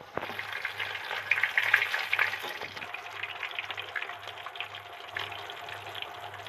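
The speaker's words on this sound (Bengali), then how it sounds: "মাছটা তো একবার উল্টে দিয়ে গেছিলাম, আপন মনে নিজে থেকে ভাজা হচ্ছে" Pieces of katla fish fry in oil in a pan on a gas stove, giving a close, crackling sizzle that is busier in the first half and then settles, over a faint rhythmic low hum and no speech.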